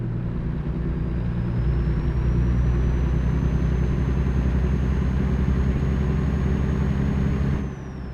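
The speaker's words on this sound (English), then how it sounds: "I think we've got a turbo in this, it sounds like there." A heavy truck in American Truck Simulator drones under steady throttle, its deep engine rumble joined by a thin rising turbo whine that holds high and then drops as the engine eases off near the end.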